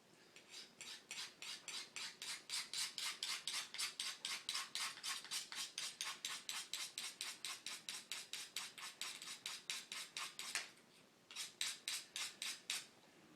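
A dulled kitchen knife drawn repeatedly through a pull-through sharpener, giving about forty rapid, even rasping strokes close up, with a brief pause near the end before a few more strokes.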